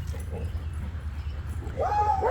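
A puppy whimpers and yips near the end, a short high whining call rising over a low steady background hum, after a quiet stretch with faint earlier whines.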